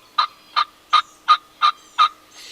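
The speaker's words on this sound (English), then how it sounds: "we're all amazed at just how long this gobbler remained up in the trees" A wild turkey gobbler gobbles six times from its roost in the trees during a spring hunt, evenly spaced, clear and fairly close, with nothing else around.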